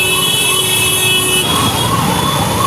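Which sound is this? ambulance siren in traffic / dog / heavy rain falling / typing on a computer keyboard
ambulance siren in traffic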